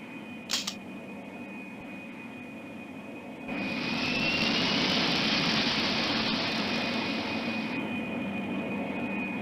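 Aircraft engine spooling up for takeoff in the Pink Panther: Passport to Peril video game, a steady hum that swells into a loud, sustained jet roar with a high whine, after a brief click near the start.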